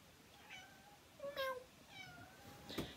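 A little kitten gives several short, high meows in a row, fairly close but soft in a quiet room, with a faint rustle at the end.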